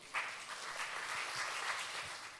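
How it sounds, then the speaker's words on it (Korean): Faint applause from a seminar audience at a church care and education event, welcoming a speaker to the front; soft, continuous clapping heard at a distance for a couple of seconds. "큰 박수로 맞아주시기 바랍니다"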